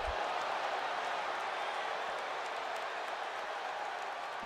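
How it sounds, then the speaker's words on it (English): A Texas wrestling crowd in WWE 2K26 cheering, a dense steady roar of many voices, broad and continuous for the whole stretch, with a faint bit of commentary underneath. "Texas crowd on their feet for this one."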